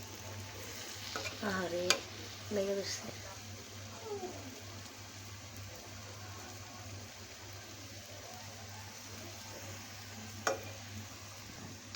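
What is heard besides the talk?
palm and rice flour fritters frying in oil in a wok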